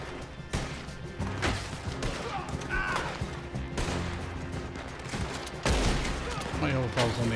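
Gunfire in the Red Dead Online video game, repeated sharp shots and bursts scattered through the clip at moderate volume, mixed with game ambience and a voice talking.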